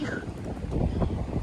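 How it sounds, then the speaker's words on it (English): Wind gusts outdoors beside the Sassagoula River at a resort, a rumbling buffet against the microphone that swells slightly toward the end, with no clear speech. "Oh, it's so windy now."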